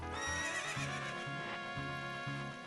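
Horse neighing in The Legend of Zelda: Ocarina of Time, a loud, drawn-out whinny over game music with a rhythmic low pattern beneath, no talking.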